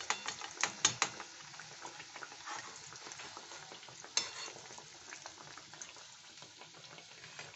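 Egg kabiraji cutlets fry in oil with a soft bubbling crackle, broken by a few sharp clinks and knocks of utensils, quiet and close with no speech.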